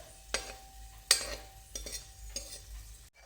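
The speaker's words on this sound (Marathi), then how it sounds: "तुपावर जरासं परतून घेऊया भाजून घेऊया साधारण खरपूस रंगावर आपल्याला हे परतून घ्यायचे आहेत त्याला थोडं फ्राय करून घ्यायचं आहे" Cashews and almonds roasting in ghee in a pan, a soft steady sizzle broken by several sharp stirring scrapes and taps of a spoon against the pan, close and moderately quiet.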